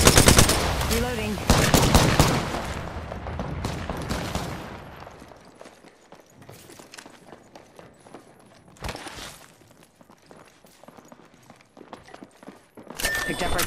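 Rapid automatic gunfire in a frantic battle-royale video game match, loud dense bursts up front that thin into scattered shots and distant rattles, with other game sounds mixed in.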